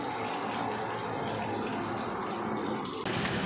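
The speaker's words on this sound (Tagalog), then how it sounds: "Tirada splashing coolant." Coolant and water gushing out of the engine of a 2023 Isuzu Mu-X with an RZ4E engine, flushed with the thermostat removed, a steady loud splashing pour that continues without pause and swells slightly near the end.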